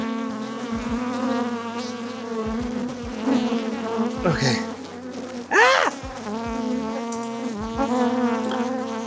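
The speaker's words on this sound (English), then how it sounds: "these bees are not happy" Dense, steady buzzing of many agitated bees swarming close by around an open hive, with a brief startled voice cutting in partway through.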